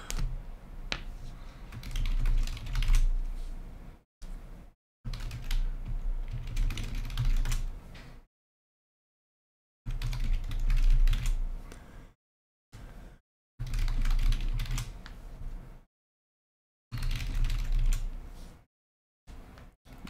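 Computer keyboard typing in several bursts of rapid clicking with short silent gaps between them, close and fairly quiet, as names are entered into a randomizer during a 2021 Pro Set baseball card blaster break.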